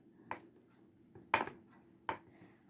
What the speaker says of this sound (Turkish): Beyaz peynirimi de küp küp doğruyorum.